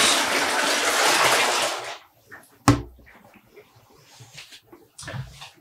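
Water poured out of a container during home dyeing of superwash yarn, a loud broad splashing pour for about two seconds, then a sharp knock and quiet handling noises.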